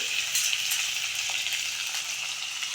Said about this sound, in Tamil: வெங்காயம் நல்லா வதங்கிடுச்சு இப்போ ஒரு ரெண்டு பெரிய பெரிய சைஸ் தக்காளி ரெண்டு தக்காளி சேர்த்துடலாம்